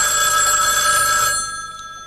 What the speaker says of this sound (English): Phone always rings at the wrong time.